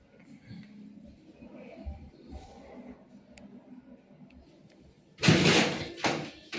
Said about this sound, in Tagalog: Ito yung pinto niya. Maganda din ang pinto.